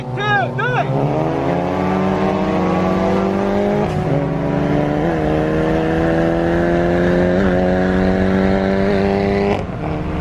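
A big-turbo Chevrolet Cobalt SS and a Stage 2 Subaru WRX street race. Loud, close engines rev hard, then pull away together through rising gear changes, with brief shifts that break the steady roar.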